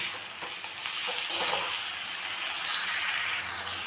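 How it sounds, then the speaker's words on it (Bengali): Chicken meat sautéed with fried onions in a pan for chicken pulao, a loud continuous hissing sizzle close by with occasional stirring scrapes, no talking. "এখন আমি মাংসটা দিয়ে দেব দিয়ে মাংসটাকে ভালো করে কষাবো"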